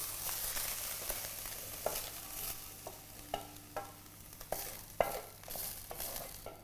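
Browned cottage pie meat scraped and stirred out of a pan into a bowl, with a steady faint sizzle under repeated utensil scrapes and clinks against metal.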